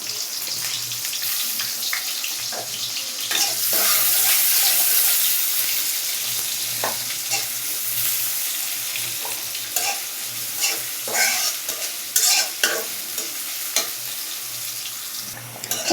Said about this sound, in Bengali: এই দেখেন একবারে ভাজা ভাজা লাল লাল করে ফেলছি